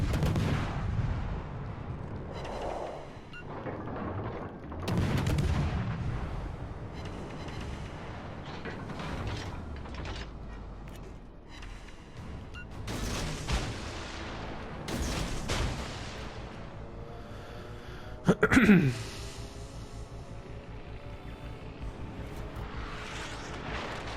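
Warship guns fire in a naval battle game, sending out heavy booming blasts at intervals and one sharp loud burst near the end, over a continuous rumble of engines and sea.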